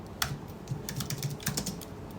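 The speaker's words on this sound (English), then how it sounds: "I know, because I'm typing." Fingers tap on a computer keyboard in quiet, irregular bursts of light clicks, close but soft, with short pauses between keystrokes and no talking.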